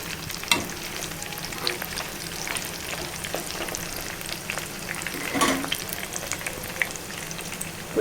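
Chicken pakodi frying in oil over a medium gas flame gives a continuous close sizzle and bubbling, punctuated by occasional stirring knocks, with no voices.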